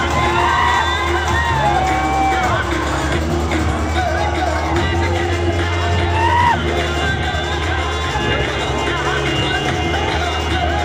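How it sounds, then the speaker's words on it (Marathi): Congress party workers cheering at an election victory celebration in Kolhapur, a dense, continuous crowd roar with whoops and shouts, loud and close throughout. "काँग्रेसच्या कार्यकर्त्यांचा हा जल्लोष सध्या आपण पाहतोय"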